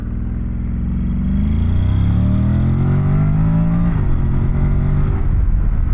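A 2025 Honda NC750X DCT motorcycle accelerating hard in sport mode, its engine note climbing steadily through held gears and then dropping at a shift, loud and close with continuous mechanical roar.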